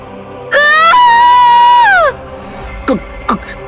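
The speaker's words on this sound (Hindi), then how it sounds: "दिशा की जोरदार चीख निकल गई।" A woman's loud, sustained scream in a Hindi horror cartoon, rising and wavering for about a second and a half before breaking off, followed by a few short, sharp vocal yelps.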